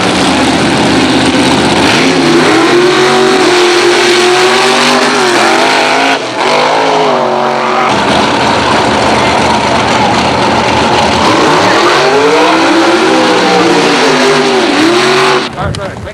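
Race cars, including the Gambler car driven by a woman from Visalia and an injected Roadster, roaring around a track with engines rising and falling as they pass, loud and continuous under an announcer's voice.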